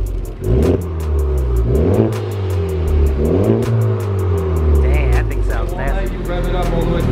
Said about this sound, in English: rev it up all the way to the red line.